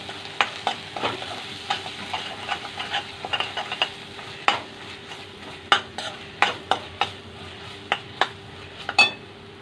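Prawn masala frying in a pan as kokum goes in, a low steady sizzle under repeated sharp clinks of a spoon stirring against the metal.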